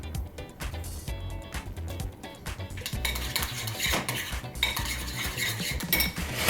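Shrimp are stirred with salt, pepper and lime in a bowl, a utensil scraping and clinking steadily against the dish up close, with busy wet stirring throughout.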